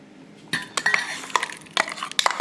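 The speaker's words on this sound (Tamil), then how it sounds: "இப்போ நம்ம மிக்ஸி ஜார்லேருந்து பாத்திரத்துக்கு மாற்ற வேண்டியதான்" A spoon scrapes and clinks against a metal mixer jar in a few sharp, uneven taps, close by, as thick spicy chutney is scooped out into a vessel.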